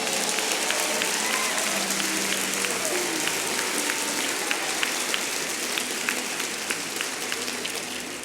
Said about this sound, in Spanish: Alguien da un aplauso grande ahora.